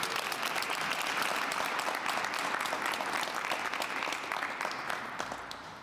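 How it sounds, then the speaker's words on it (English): Sustained applause from a large crowd at an administration event, dense steady clapping that fills the whole stretch and tapers slightly toward the end. "Give each other a round of applause"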